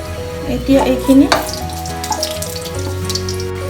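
Cardamom, cinnamon and a bay leaf dropped into hot oil for a tempering, sizzling and crackling loudly at first, then settling into a steady fry.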